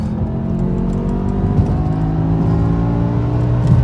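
Cabin engine sound of a BMW E60 M5 in M mode pulling in third gear after a downshift at about 4,000 RPM on a San Diego freeway, a loud, steady, layered drone that rises slightly, with no talk.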